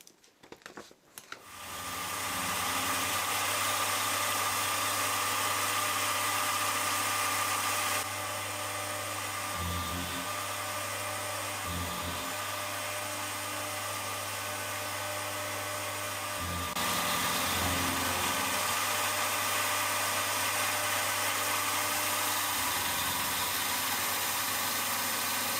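A machine tool runs continuously while cutting a gear assembly part for a hit and miss engine, giving a loud, steady motor hum and whir with occasional brief shifts in tone and no talking.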